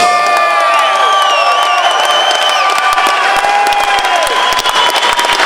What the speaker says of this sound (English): can we give both of these fighters a large round of applause?